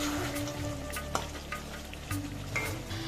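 Chicken curry masala in a covered pan gives off a steady, moderate sizzle and crackle, close by and continuous, with a few soft pops and stirring clatters and no talking.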